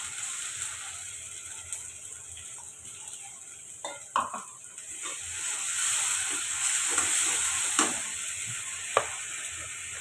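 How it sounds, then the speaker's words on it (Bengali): Onions with cumin and garlic sizzle steadily in a pan as spices go in, a soft continuous frying hiss with a few sharper stirring clicks and scrapes near the middle. "পেঁয়াজগুলো আমার ভাজা হয়ে গেছে, এখন বাকি মশলা দিয়ে দিব"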